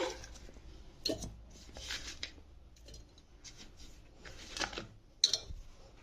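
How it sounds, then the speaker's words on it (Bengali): Chopped amla, carrot and mint pieces drop into a mixer jar, giving scattered light clinks and soft taps at uneven intervals, close and quiet with no talking. "তো এবারে এগুলোকে আমি দিয়ে দিচ্ছি জারের মধ্যে।"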